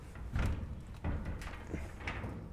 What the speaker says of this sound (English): So let's lift open these doors and see what we got.